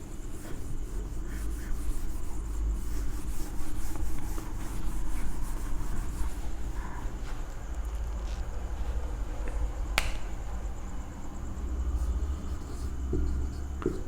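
Steady close rubbing on a board or chart as writing is wiped away, a continuous scratchy friction with no speech.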